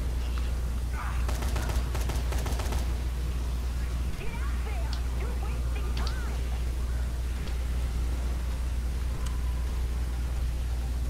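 Gunfire in the Dead Rising 3 video game: a cluster of sharp shots in the first few seconds, then scattered bursts and pops over a constant low game hum, with game speech.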